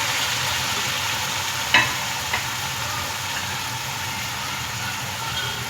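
Onions frying in a pan for chicken biryani as garlic, ginger and tomato go in: a steady broadband sizzle with two brief clinks or stirring knocks, no voices.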